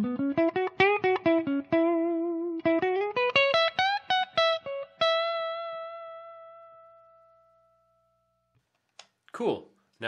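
Yamaha Revstar electric guitar played clean with the selector in the middle position, blending a split single-coil and a bridge humbucker: a quick run of plucked notes and chords, then a long ringing note fading to silence, with a brief noise at the end.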